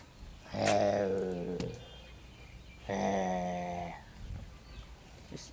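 Village dogs let out two low, throaty growls a couple of seconds apart, fairly quiet and close, with a faint rustle between them.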